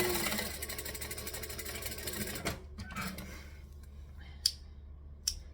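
A sewing machine stitches fabric in a close, steady mechanical buzz that stops halfway through, followed by a faint quiet room and two sharp clicks.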